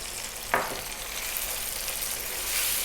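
Cumin, coriander, turmeric and chili powder frying in a pan for an Indian mutton curry, a close, steady sizzle opened by one sharp hiss as the spices land.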